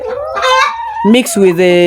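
Chickens in a chicken house, loud close clucking and squawking calls in quick succession.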